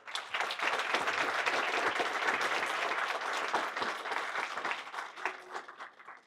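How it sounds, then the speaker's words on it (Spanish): A university lecture audience at an academic week event breaks into strong applause welcoming a speaker, a dense burst of clapping that swells quickly, holds for several seconds, then thins into scattered claps as it fades. "Doctor Bichot, nuestra universidad le agradece su presencia con un fuerte aplauso."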